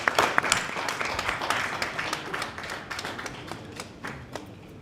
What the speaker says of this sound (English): Let us give him an applause.